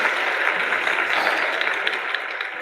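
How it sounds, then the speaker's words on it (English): Dense, continuous applause sound effect, a wash of many hands clapping at once, loud and steady for a couple of seconds without talk. "That's a better applause right there."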